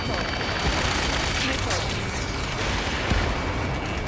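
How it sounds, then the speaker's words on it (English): Weapons fire rattles continuously in an Ace Combat 7: Skies Unknown attack on a facility, a dense barrage of gunfire and booms with radio voices underneath. "Keep firing!"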